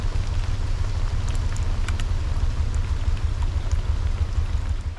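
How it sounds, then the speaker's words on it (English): Heavy winter rain pours down at a canal lock, a loud steady roar of water and low rumble with scattered sharper drips and taps close by. "it went from raining to absolutely hammering it down"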